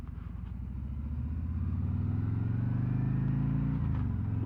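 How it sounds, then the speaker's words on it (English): A 2024 Harley-Davidson Road King motorcycle accelerating, its deep, loud V-twin rumble climbing steadily in pitch with a brief dip like a gear change near the end, heard up close and without talk. "Upon acceleration, you'll get to 50 miles per hour quite quick."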